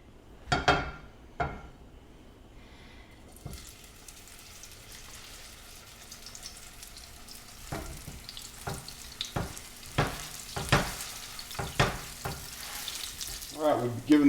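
Dehydrated potato patties fry in hot olive oil in a pan, giving a steady low sizzle broken by sharp pops and crackles, with a burst of spattering near the start and more pops building toward the end.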